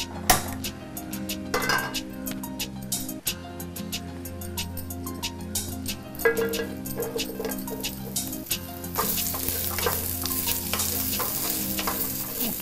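Fajita vegetables fry in a pan with a constant sizzle while a utensil stirs and clinks against the metal in repeated scraping strokes, close and lively, with no voices heard.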